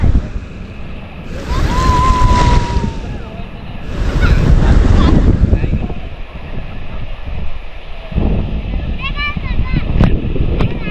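Sea waves surging with a rising tide on the Konkan coast, a rough roar of surf and wind buffeting the microphone, rising and falling in bursts, with people talking over it at times.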